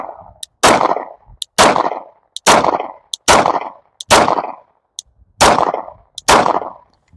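Eight sharp shots from a Glock 9mm Gen 3 handgun ring out loud and close, spaced about a second apart, each with a brief decaying echo.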